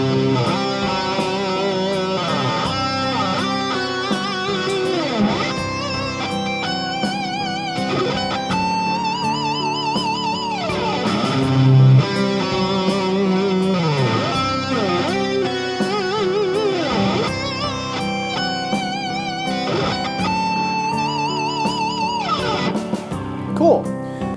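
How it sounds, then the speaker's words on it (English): Electric guitar with effects playing a three-note Lydian lick of root, fifth and raised fourth, repeated in rising octaves over a full backing track, with the melody and accompaniment continuous throughout. "It's a 3-note motive, and I'm going to play it and then play it again an octave higher, and then play it yet another octave higher"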